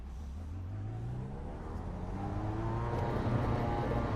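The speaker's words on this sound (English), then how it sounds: "Car approaching, watch your mirrors." A race car in the iRacing sim approaches, its engine drone rising steadily from quiet to louder, and no one speaks.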